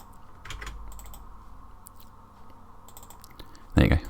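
Mouse and keyboard clicks while character joints are defined in Maya for mocap cleanup: scattered soft close clicks, then a louder cluster near the end, under quiet room tone with some talk.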